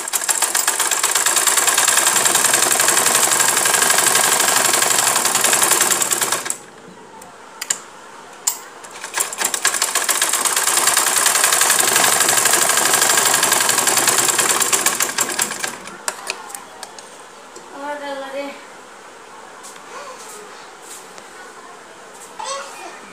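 A sewing machine stitches a kameez sleeve in two long, loud bursts of rapid mechanical whirring, separated by a pause with a few clicks, then falls quiet while someone talks.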